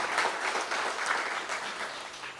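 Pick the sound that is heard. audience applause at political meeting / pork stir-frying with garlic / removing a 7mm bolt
audience applause at political meeting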